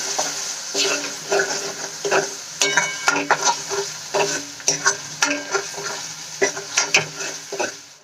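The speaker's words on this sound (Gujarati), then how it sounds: "આપણે એને સાંતળી લઈશું, જેથી કરીને લસણ, આદુ અને મરચાંની કચાશ દૂર થઈ જાય।" Garlic, ginger and chilli green chutney sautéing in a pan, with a steady sizzle and repeated scraping stirs at a regular rhythm, close and fairly loud, with no talking.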